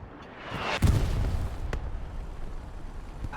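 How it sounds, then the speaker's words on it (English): Artillery fire in a video game match lands as a single heavy boom, then a rumbling tail that fades away under faint background noise. "Artillery."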